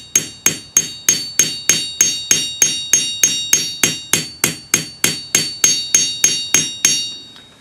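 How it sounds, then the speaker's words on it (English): A cross peen hammer strikes a metal bangle being shaped with a wavy anticlastic edge, about twenty sharp ringing metallic blows in an even, steady rhythm, close and loud, with the last ring fading out. "This is a cross pane hammer, and I'm going to go to the other side."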